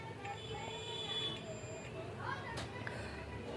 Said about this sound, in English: This is a multimeter set to the continuity, and this is our 2 probes.